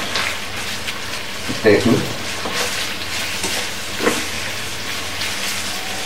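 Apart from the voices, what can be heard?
chicken roast with rose water and kewra water being stirred in a pan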